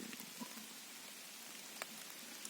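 Rain falls steadily in a forest in the Zarichne area of Rivne region, a soft, even, fairly faint hiss of drops with a few slightly sharper patters scattered through it and no voices.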